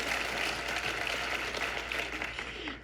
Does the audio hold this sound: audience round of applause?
yes